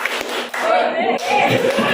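A group claps out the rhythmic "tepuk wow" clapping routine together in an indoor gathering in Yogyakarta, with quick bursts of claps over voices talking and chanting throughout.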